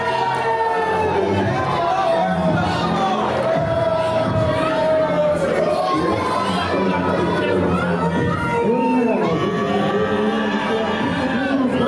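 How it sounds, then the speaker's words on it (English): A wrestling crowd at a CSW show jeers a wrestler in a loud, continuous roar of voices and chatter filling the arena, with no single voice standing out. "Crowd doesn't seem to be a fan of Derek James"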